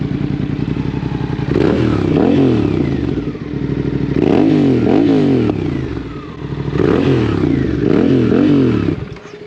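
A Campagna T-Rex 8S engine revs up sharply three times, each rising growl falling back to a rumbling idle, loud and close.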